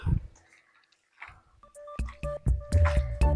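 Curd being stirred into chicken curry, with soft, wet squishing and scattered clicks of a spoon that become denser and louder toward the end.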